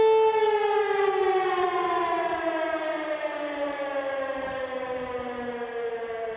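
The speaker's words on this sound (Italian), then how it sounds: "ci siamo recati qui in questa vallata per sentire la sirena delle ex miniere" Civil defense siren at the former mines of Val del Riso sounds one long, loud wailing tone with strong harmonics, slowly falling in pitch across the whole stretch, alone with no voices.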